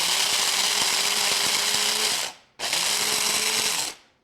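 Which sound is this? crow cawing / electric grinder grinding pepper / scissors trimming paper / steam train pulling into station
electric grinder grinding pepper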